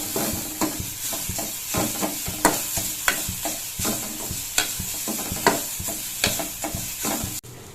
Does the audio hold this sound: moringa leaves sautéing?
yes